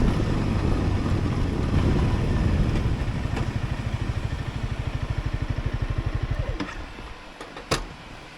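A motorcycle rides a mountain off-road section in Mexico, its engine droning and then slowing into a rapid low pulsing putter before dropping away, with a sharp knock near the end.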